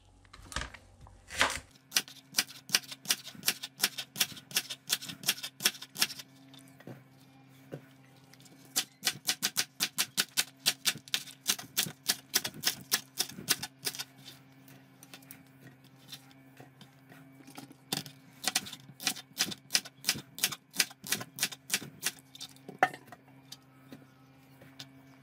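Leeks being chopped for soup with a knife on a cutting board, dozens of fast crisp taps in rapid rhythmic bursts separated by short pauses, close and clear with a faint hum underneath.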